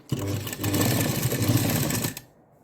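A sewing machine stitches a blouse lining with embroidered border, starting abruptly and running in one steady close burst of rapid needle strokes for about two seconds before cutting off.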